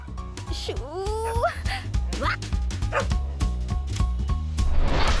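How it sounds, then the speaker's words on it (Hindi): A neighbor's dog barks and yips repeatedly nearby, with whiny rising notes mixed in, while people talk over the barking. "ये हमारे पड़ोसी मिलिट्री मैन का कुत्ता है"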